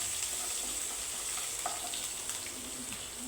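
Red chilli and ginger tempering fry in hot oil, a soft continuous sizzle with faint crackles throughout, fairly quiet and without voices.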